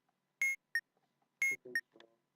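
An alarm in the bomb-defusal game Keep Talking and Nobody Explodes 2 gives two pairs of sharp electronic beeps, fairly quiet, followed by softer blips and clicks.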